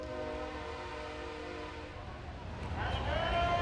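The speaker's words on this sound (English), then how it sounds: "We got the train coming through." A train passes near an outdoor pickleball match in Daytona Beach, its horn held in long droning tones over a low rumble that swells louder toward the end. The sound comes from a moderate distance.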